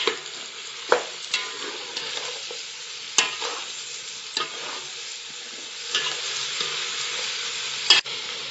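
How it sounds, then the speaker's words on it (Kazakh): Carrots fry in hot oil for a rice pilaf, giving a steady, fairly loud sizzle with repeated clinks and scrapes of a stirring utensil at irregular intervals. Nobody speaks. "Енді ары қарай сәбізімізді салып, сәбізіміздің несі болғанша қуыра береміз."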